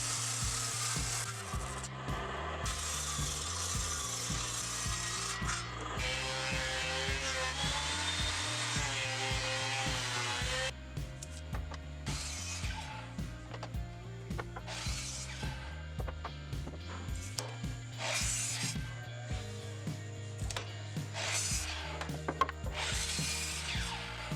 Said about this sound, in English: I started off by cutting down the legs.